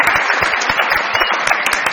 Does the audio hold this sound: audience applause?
yes